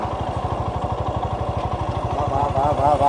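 A motorcycle engine runs on a long road ride from Kalaburagi toward Kerala, giving a loud, close, steady low chugging throb that continues without a break.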